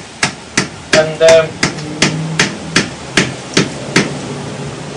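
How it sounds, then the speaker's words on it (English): A wooden chisel taps limestone blocks loose in about nine sharp, evenly spaced knocks, close and loud, with a brief voice cutting in once. "this is a wooden chisel I'm using"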